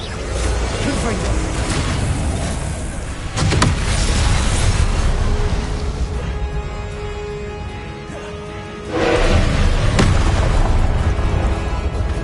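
Confringo fire curse blasts in Hogwarts Legacy land as loud, booming bursts that swell over continuous game noise, with two strong surges several seconds apart.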